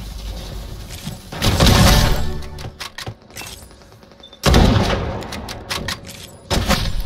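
Gunfire in the shooter game Strinova, with loud bursts of shots and impacts rising in two heavy volleys separated by quieter stretches of sharp clicks and cracks.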